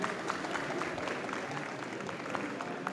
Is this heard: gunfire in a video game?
no